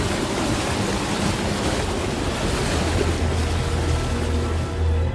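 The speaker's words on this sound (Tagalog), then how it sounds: "Masyadong malakas ang agos ng tubig." Strong flood water rushes during Typhoon Odette, a loud, unbroken roar of churning current mixed with wind buffeting, steady throughout and without voices.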